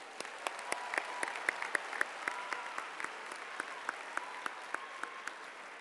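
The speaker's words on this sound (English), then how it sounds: "please join me in giving our student performers a round of applause, please" Audience applause for student musicians and singers at a university winter commencement, heard as a steady, fairly faint wash of many hands with sharp individual claps standing out throughout, with no talking.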